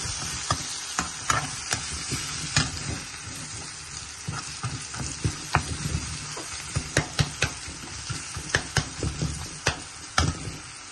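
Onions frying in a pan for a Bangladeshi-style lamb curry, a steady sizzle with frequent sharp crackles and spatters close by, no talking.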